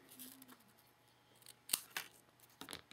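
Scissors trimming a strip of craft material: a few sharp, close snips, a single cut followed by a quick pair, against a quiet indoor background with no speech.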